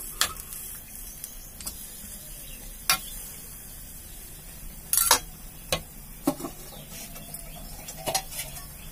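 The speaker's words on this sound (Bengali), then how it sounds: "ভালো করে এটা নাড়াচাড়া করে নেব।" Greens with mustard paste stirred in a pan for a Bengali shak dish: irregular spatula scrapes and metallic knocks against the pan, with scattered louder clanks over a low, quiet background.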